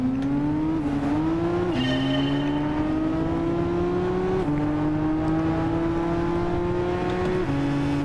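Race car engines in Gran Turismo 6, a loud continuous howl of several cars revving hard, the pitch climbing steadily through each gear and dropping briefly at gear changes, with no talking.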